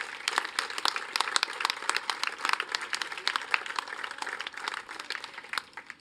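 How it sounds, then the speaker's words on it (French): An audience at a campaign launch gathering gives a round of applause, dense overlapping claps at moderate distance, steady throughout and easing slightly toward the close. "Je pense qu'on peut les applaudir."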